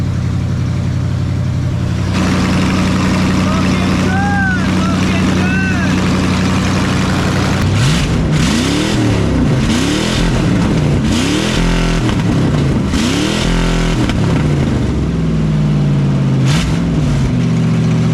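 A rusty 1996 Ford F-250 4x4 pickup engine idles roughly, then is wound up in several loud rising revs toward its maximum RPM with a climbing whine, close to the engine throughout.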